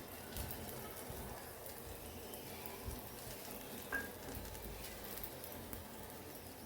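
A paratha brushed with oil fries in a pan with a soft, even sizzle at low level, and a faint clink partway through. No one speaks.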